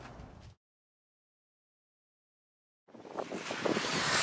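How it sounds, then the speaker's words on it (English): Heavy wind buffeting a microphone: a brief roar, then silence for about two seconds, then loud rumbling gusts that build toward the end. "It's pretty windy out here."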